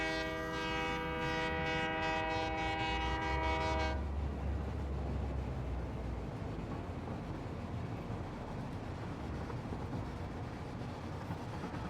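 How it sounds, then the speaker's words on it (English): A train in the video game Satisfactory sounds a long, steady horn blast, then rolls on with a continuous rumbling, clattering rail noise, moderately faint and without talk. "I'll just have to make my own train"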